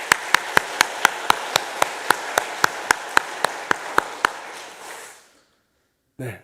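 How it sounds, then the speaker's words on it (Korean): A steady run of about fifteen sharp, evenly spaced claps from a church congregation during Sunday worship, over a soft wash of crowd noise, fading out near the end. "하나님께 영광을 올리는 박수와 함께 하겠습니다."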